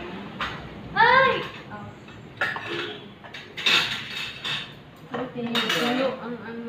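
A cooking pot handled at a home meal: metallic clanks, scrapes and clinks of pot and utensils come in irregular bursts while people talk nearby.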